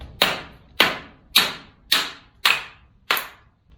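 A dead blow mallet strikes the back of an axe driven into firewood, six sharp, evenly spaced whacks about half a second apart, each ringing briefly before fading, close and loud with no talking.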